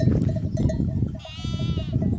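Sheep and lambs bleat in a flock, one clear wavering bleat rising above a constant low rumble of animal noise and shuffling.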